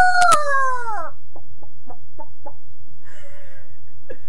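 A person's voice imitates a rooster, giving one loud crowing call and then a run of short clucking bursts with a softer throaty cluck at the end.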